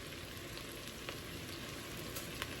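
Garlic with black pepper frying in a pan, a faint, steady low sizzle with a few soft pops and ticks, no voices.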